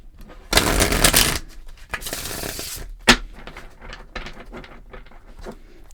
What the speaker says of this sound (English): so do one more shuffle.